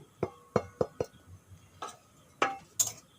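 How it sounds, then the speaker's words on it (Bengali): Spoon scraping and clinking against a metal kadai while stirring ground chilli, turmeric, cumin, coriander and mixed spice powders as they fry; a series of sharp, close metallic taps and scrapes in an uneven rhythm, with no talk. "এভাবে নাড়াচাড়া করে মশলাগুলো তিন চার মিনিটের মতো ভেজে নিয়েছি"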